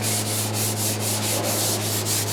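Steady scratchy sanding strokes on wood, rubbing back and forth in a regular rhythm, close up with no voices.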